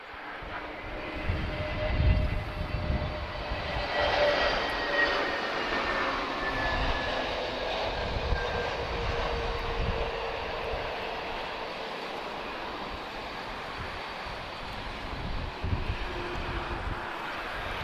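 A Finnair Airbus A320neo jet departs Lisbon Airport in gusty wind, its engines a broad, sustained roar that swells and holds at a moderate distance with wind rumble underneath.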